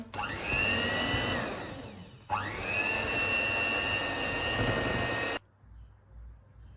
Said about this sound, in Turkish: Tekrar çok az robottan geçiriyorum.